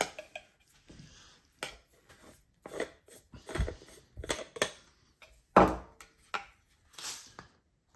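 A spoon scrapes and knocks inside a metal thermos holding cake. Irregular close scrapes and clunks come in short bursts with quiet gaps between them and no talking.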